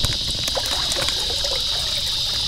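Water trickles and drips steadily from a soaked coconut husk reptile substrate, close by, with a constant splashing flow and a high hissing tone throughout.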